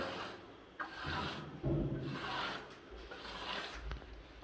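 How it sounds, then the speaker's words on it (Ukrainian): Clean steel trowel compacting decorative art-concrete plaster on a wall, soft close scraping rubs in short repeated strokes, quiet and alone. "беремо кельму чисту, одну руку, вологу тряпчинку в іншу і починаємо ущільнювати матеріал"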